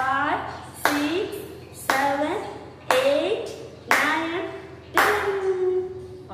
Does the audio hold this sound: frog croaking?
no